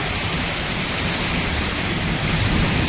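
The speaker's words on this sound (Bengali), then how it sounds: "আর এত জোরে বৃষ্টি, বিদ্যুৎ চমকাচ্ছে" Heavy rain pours at night during a thunderstorm with lightning, a steady dense hiss of falling water that fills everything evenly and grows slightly louder toward the end.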